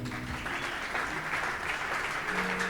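Church congregation applauding, a steady crowd clapping that fills the room with the noise of many hands, with faint voices mixed in underneath.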